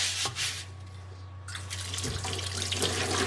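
Water trickles and splashes onto a clay pot as it is rubbed by hand, with soft irregular wet rubbing and brief pours, fairly quiet and close.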